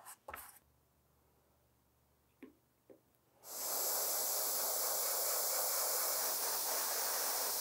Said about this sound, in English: and then we'll come in with the airbrush to paint it.